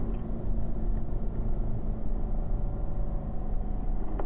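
A Chevrolet Corvette on a race track as the driver eases smoothly off the throttle; a steady, low engine rumble from inside the car holds fairly even throughout, with no voices.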